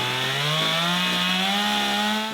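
Old chainsaw engine idling at low RPM, a steady close buzzing drone with the pitch creeping slightly upward and no speech.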